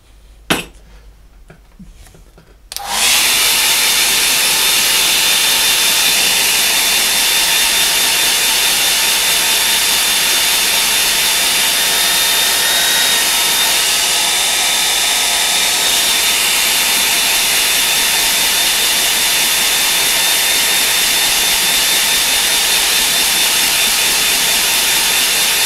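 A hair dryer drying a painting switches on after a few quiet seconds with a click, then blows in a loud, steady, close whooshing roar that holds unchanged to the end.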